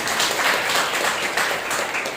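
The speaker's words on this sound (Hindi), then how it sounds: "जोरदार ताली बजा सकते हैं।" Dense, steady applause fills a Sunday church service hall as the congregation claps loudly and continuously for the whole stretch, with no voices rising above it.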